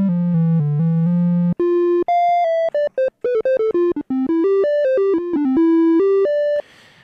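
A synthesizer plays a melody of smooth, mellow triangle wave tones: long held low notes, then quick stepping runs higher up, loud and close.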